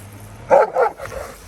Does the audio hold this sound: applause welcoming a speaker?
no